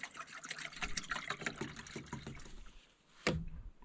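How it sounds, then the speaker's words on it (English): Water pours into a drinking bottle outdoors beside a roadside ditch in a Canadian swamp, a steady splashing trickle with a sharper clunk near the end. "we'll grab our bottle of water here and we'll just fill it right up"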